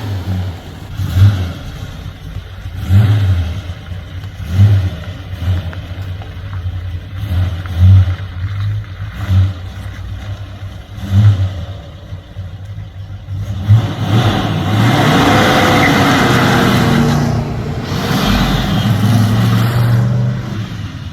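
A rebuilt 1961 Studebaker Hawk revs in repeated bursts, then settles into a steady, louder engine roar as it pulls away and heads off, with no talk over it.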